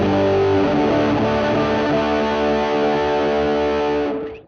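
Electric guitar through a DIY RAT distortion pedal at full effect with no clean blend, a thick, saturated chord ringing loud and sustained for about four seconds before cutting off abruptly.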